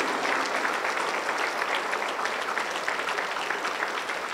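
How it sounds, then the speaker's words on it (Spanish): A church congregation applauds for several seconds during a worship service, a dense steady patter of many hands clapping together, close and sustained without a break. "aplauso para el Señor Jesús"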